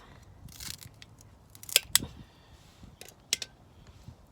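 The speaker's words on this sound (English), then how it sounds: "I'm gonna cut this bottom off" Scissors snip through the bottom of a store-bought rose stem, giving a few sharp, close clicks and cuts spaced over a few seconds in a quiet room.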